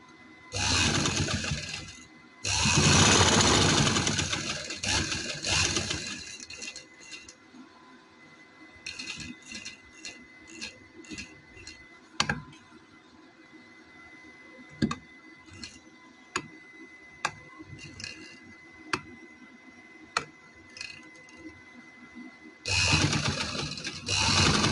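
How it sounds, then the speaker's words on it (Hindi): A sewing machine stitches a neck design on a garment, running in loud sustained whirring bursts at the start and end, with sparse sharp ticks and clicks in the quieter middle stretch. "सिलाई लगाएंगे।"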